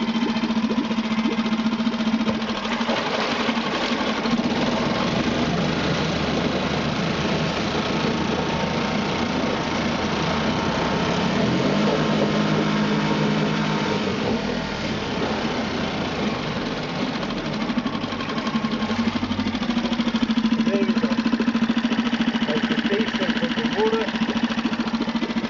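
A 2009 Mercury 3.5 hp four-stroke outboard motor runs in forward gear in a test bucket of water. It gives a steady, moderately loud engine drone with a buzzing hum, and someone talks over it now and then.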